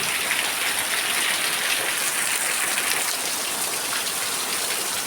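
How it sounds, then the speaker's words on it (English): Steady rain pours down during a rainy season day, a dense, continuous hiss of drops on surfaces that stays loud and even throughout with no voices. "See the sun, see the rain,"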